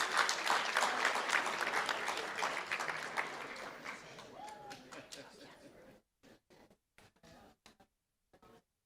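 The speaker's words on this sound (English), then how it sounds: "Let's give them a huge round of applause" Audience applause fills a school board meeting hall for about six seconds, a dense steady clatter that fades to a few scattered claps.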